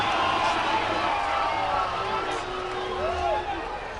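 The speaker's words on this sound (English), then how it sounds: "Crowd is going absolutely crazy" A crowd at a 12U Pan American gold medal baseball game between the USA and Mexico roars with sustained cheering and whistles, loud and continuous, with a voice talking over the noise.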